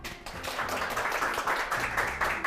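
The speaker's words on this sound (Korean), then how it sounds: "안시준 대표님을 큰 박수로 모셔볼게요" Studio audience at a Korean lecture show claps to welcome a guest speaker onstage, a moderate burst of clapping that swells and holds for a couple of seconds.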